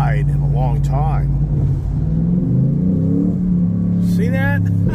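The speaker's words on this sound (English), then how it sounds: "I just can't get over how this thing just downshifts and then kind of gets back into it." Race truck engine heard from inside the cab as it downshifts and revs back up, rising and falling whines with a deep steady drone under them, close and loud, with someone talking over it.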